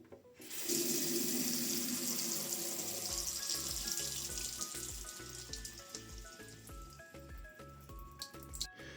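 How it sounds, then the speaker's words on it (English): Hot water pours steadily from a household faucet tap, opened to help drain a water heater being flushed; a continuous splashing rush fills the sink nearby, with faint drips and clinks on top. "open the hot water tap on one of the faucets in the house"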